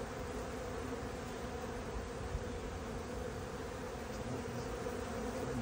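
Honey bees swarming outside the side of a hive, a dense, continuous drone of many wings close by, steady throughout with no voices.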